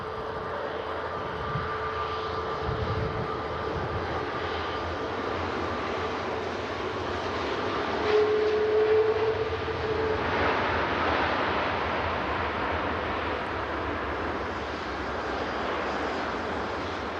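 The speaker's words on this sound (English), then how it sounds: "Oh my gosh, a Virgin Atlantic A330." A Virgin Atlantic Airbus A330 jet airliner comes in to land, its engines a sustained loud roar with a faint whine, swelling slightly midway and holding steady without speech.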